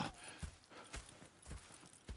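Horse hooves clip-clop at a steady walking rhythm in the video game Red Dead Redemption 2, quiet and close, with regular soft thuds and no speech over them.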